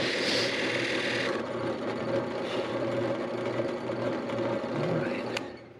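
A drill bores holes in wood with a steady mechanical whir and grinding buzz up close, a brief higher whine at the start, continuing evenly before trailing off at the end.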